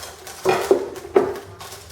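A plate and a chopping board handled to flip over a baked sheet on baking paper, giving two or three close, sharp clatters of crockery and board against each other with soft shuffling between, no talking.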